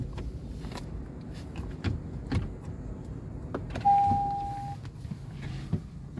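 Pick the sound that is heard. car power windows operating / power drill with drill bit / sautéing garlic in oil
car power windows operating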